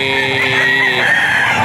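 Chickens cluck and a rooster crows on a farm, close and loud, with a sustained crow running through the brief moment.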